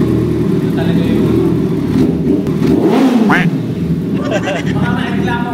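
A Kawasaki ZX-14R Ninja sport motorcycle revs loudly up close, its engine note rising and falling, with people chatting underneath.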